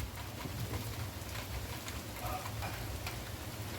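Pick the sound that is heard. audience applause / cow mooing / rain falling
rain falling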